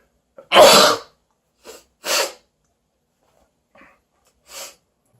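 A man sneezes hard once, followed by a few smaller sneezes and snorts in a quiet room, with short silent gaps between bursts.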